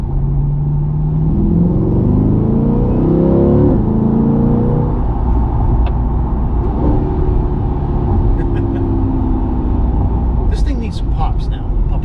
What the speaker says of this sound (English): Pop, pop, pop. Downshift again.